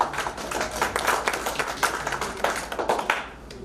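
Audience clapping at a mushaira as a poet is welcomed to the stage, a steady spatter of hand claps with a few sharper close claps, fading slightly at the end.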